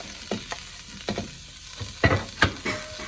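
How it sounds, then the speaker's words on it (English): Chopped onion softens in a pan with a faint sizzle, broken by several short stirring scrapes and knocks of a utensil against the pan, close by. "We're gonna soften this onion up."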